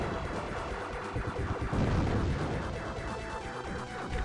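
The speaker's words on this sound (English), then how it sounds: "Okay, so the charge cannon is really not that good." The charge cannon fires in the video game Tyrian 2000, a dense stream of rumbling, crackling blasts over steady background noise, continuous and moderately loud for a few seconds.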